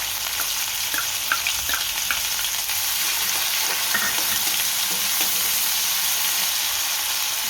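Ginger and green chillies frying in hot oil for an aloo matar paratha filling: a steady, bright sizzle holds throughout, broken by occasional soft stirring clicks, with no voices.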